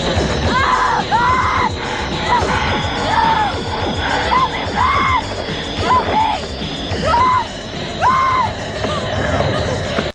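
A young woman screams in terror in the 1984 horror film A Nightmare on Elm Street, with repeated piercing wails rising and falling over a dense, noisy soundtrack.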